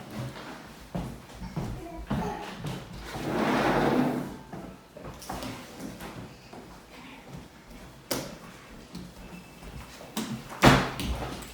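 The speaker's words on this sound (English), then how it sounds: "Let me go let the dog in." A door opening to let a dog in indoors: scattered knocks, rattles and a shuffling stretch, then a sharper bang near the end, all close and without talk.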